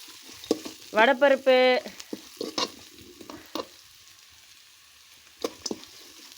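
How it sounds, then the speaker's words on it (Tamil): Mustard seeds and lentils crackle and sizzle in hot oil in a pan over a wood-fired stove, with a steady frying hiss and scattered pops; a voice speaks briefly over the cooking. "விறகு படுத்தாச்சு, எண்ணெய் ஊற்றியாச்சு, கடுகு போட்டாச்சு,"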